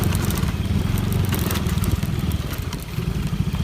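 A motorcycle engine drones steadily while riding a rough rural road in Anda, Pangasinan, close and loud, with rattling and clattering over the continuous engine pulse.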